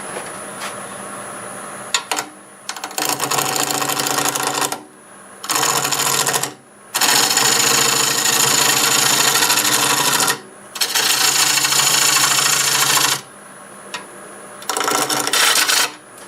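Teak turning on a wood lathe at 829 RPM, cut with a half-inch bowl gouge while the tailstock supports the blank: loud, harsh cutting bursts of a few seconds each, separated by quieter stretches of motor hum.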